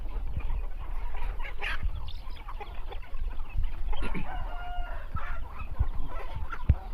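Chickens cluck and chatter in a busy farmyard, with a rooster's crow rising briefly amid low rumbling background noise.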